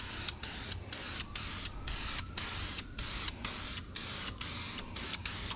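Repeated short bursts of rust-preventative coating sprayed from an aerosol can in the engine bay of a 1995 Thunderbird SC, about a dozen quick hisses at a fairly even rhythm over a steady low background.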